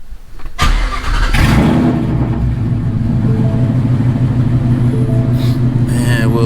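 A 2016 Ford Mustang GT with a Coyote V8 cranks and fires up loudly after a brief pause, then settles into a steady, throbbing idle close by.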